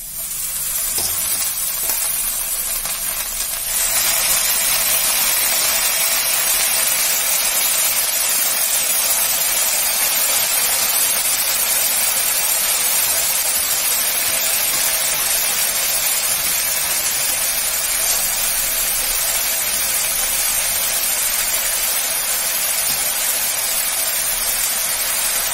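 Jute leaves hitting hot oil with fried chana dal and onion set off a loud, steady sizzle that stays strong and even throughout, with frying hiss filling the pan and no voices.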